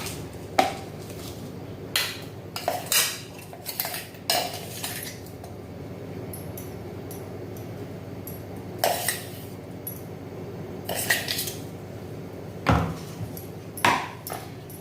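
Metal spoon scraping and tapping as curry leaf chutney is transferred into a bowl, a series of sparse, short clinks and scrapes against a quiet background.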